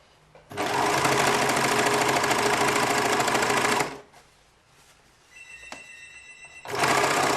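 A serger overlocks a seam on a basque corset, running in two loud, steady bursts of rapid stitching separated by a quieter pause with a brief ringing tone.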